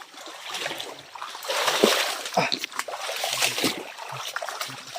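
Splashing as someone wades through water on a trek, irregular sloshes and splats up close with a few sharper bursts, while people talk over it.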